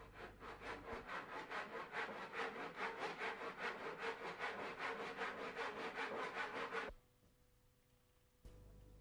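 A handsaw cuts wood to size for a miter joint, with a steady rhythm of close, rasping strokes for several seconds before it stops and goes quiet.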